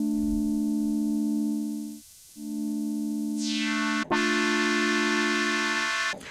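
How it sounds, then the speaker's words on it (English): Sustained tones from a Yamaha CS-50 analog synthesizer with a sine wave oscillator hum steadily, pausing briefly and then shifting to a brighter, buzzier timbre with a sharp click between notes; no voices. "you can hear how just having that sine wave possibility really broadens out the sound"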